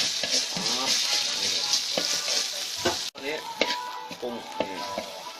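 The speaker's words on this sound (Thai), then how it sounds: "ตอนนี้เอาพริกที่ตำแล้วก็กะปิ นี่ เอามาคั่วน้ำมันให้หอมกลิ่น" Pounded chili and shrimp paste fry in hot oil for a stink bean and shrimp stir-fry. A steady, close sizzle runs throughout, and a spatula scrapes rhythmically against the pan. No one talks.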